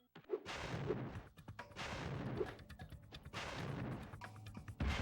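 Cannon fire in the video game Spyro 3, a run of rapid, heavy booming blasts one after another over a busy, loud game soundtrack.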